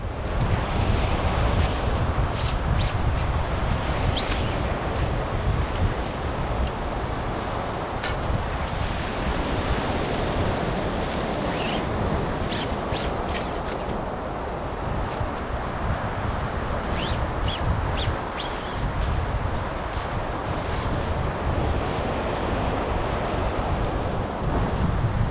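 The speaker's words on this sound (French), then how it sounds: "pas mal de houle, pas mal de vent" Ocean swell and strong wind at a beach make a loud, continuous roar of surf with buffeting wind noise on the microphone, steady throughout and with no voices.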